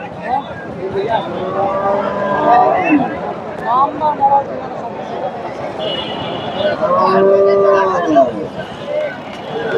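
Friesian dairy cows low at a busy cattle market, with two long drawn-out moos rising over a steady hubbub of people talking and trading nearby.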